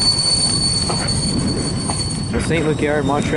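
A CPKC freight train, symbol 119, rolls past near St. Luc Yard in Montreal, its loud continuous rumble joined by rising, wavering wheel squeals, while someone talks over it.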